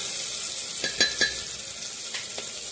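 Curry leaves sizzling in hot oil, a close, steady frying hiss with a few sharp crackles and pops near the start, with no talk.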